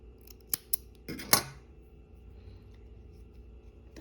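Scissors snip crochet yarn during a Pikachu crochet placemat project: two quick sharp clicks followed by a fuller closing cut, close and clear, then quiet room tone with no talking.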